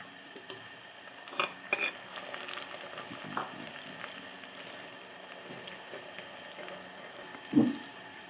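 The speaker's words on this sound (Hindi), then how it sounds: "अब ये मैंने इसका तड़का लगा लिया है लहसुन अदरक का" Soft, steady sizzling of garlic and ginger frying in hot ghee, with occasional clinks and stirring sounds, fairly quiet and without talk.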